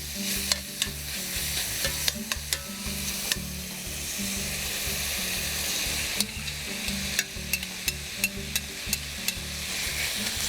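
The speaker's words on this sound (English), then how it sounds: "let's go ahead and add our veggies back into the pot" Vegetables are tipped back into a pot of pork and cashew stir-fry and give a loud, close sizzle. Repeated clanks and scrapes of stirring come in an uneven rhythm, with no voices.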